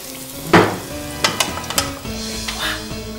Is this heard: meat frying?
yes